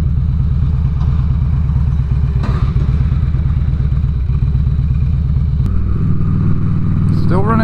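A 2006 Harley-Davidson Ultra Classic motorcycle engine idles steadily with a rhythmic, slightly clattery putter, close by, shifting pitch briefly near the end.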